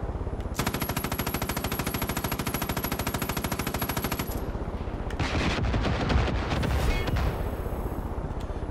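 Gunfire in Far Cry 5, a loud rapid automatic burst rattling steadily for several seconds, then stopping before scattered shots and a louder blast-like crack, with no speech.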